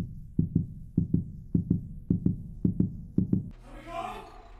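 A heartbeat in a horror video game thumps in steady double beats, about seven pairs over three and a half seconds, close and fairly loud, followed by a burst of other game sound.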